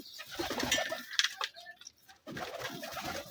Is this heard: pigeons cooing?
yes